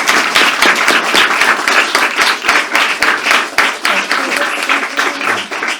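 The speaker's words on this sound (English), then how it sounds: "You can applaud, please, Kierstan." An audience applauds at a staged play reading, loud, close clapping with sharp individual hand strikes standing out of a continuous wash, steady throughout.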